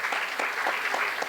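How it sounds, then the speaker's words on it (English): Brief, moderate applause from attendees at a town strategic planning retreat, a quick run of distinct claps in a roomy space. "Could we give those guys a round of applause"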